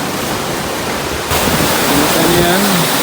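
Atake Falls on Cannon Road pours in a loud, steady broadband rush of falling water close by, with faint voices in the background.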